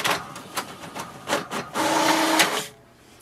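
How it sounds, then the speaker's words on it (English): An HP DeskJet Plus 4155 printer printing a page: close mechanical whirring with rhythmic clicks and feed pulses, building into a sustained run of the print carriage before stopping abruptly. "wait for the printer to send a command to print a page"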